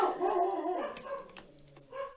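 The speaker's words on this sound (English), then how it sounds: "Shut up, dogs!" Several dogs bark and yelp at close range in an uneven, overlapping run, with the sound tapering off toward the end.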